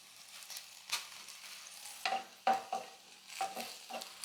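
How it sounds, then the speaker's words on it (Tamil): Garlic and ginger sauté in a pan for a goat head curry, with a soft steady sizzle broken by several sharp scraping stirs of a spatula. "இதை வந்து ஃபஸ்ட்டு பூண்டும் இஞ்சியை வந்து நம்ம நல்லா வதக்கிக்கலாம்"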